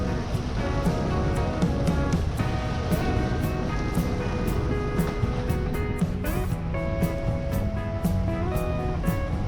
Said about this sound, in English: The sound of engines blend with the splashing sound of water.